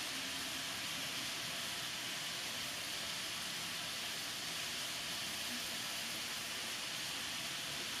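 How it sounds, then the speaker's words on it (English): Steady, close hiss of hot steam escaping from an Aroma Super Pot used to steam broccoli, continuous and even throughout with no talk. "There's a lot of hot steam coming out, so just be careful."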